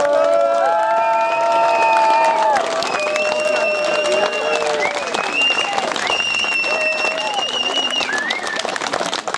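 An outdoor village audience applauds kindergarten girls at a maypole-felling celebration in Čelčice, with sustained steady clapping and some cheering, while a loud warbling whistle melody and scattered voices carry over the applause.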